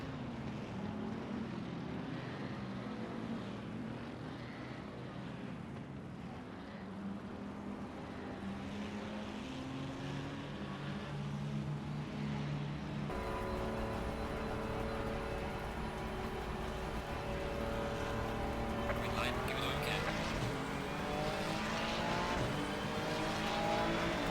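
Race cars launching from the start at the Nürburgring in Assetto Corsa Competizione, a dense pack of engines revving and rising through the gears, loud and continuous, with pitch sweeps as the field pulls away.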